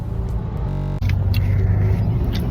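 A car drives southbound on the M6 motorway, heard from inside as a steady, loud low rumble of engine and road noise with no speech.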